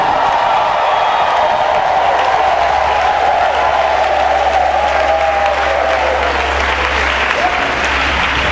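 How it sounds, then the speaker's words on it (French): Congregation at a Sunday church service applauding and cheering, dense steady clapping with raised voices throughout, loud and close, with a shouted call near the end. "Est-ce qu'on peut faire des bruits d'acclamation?"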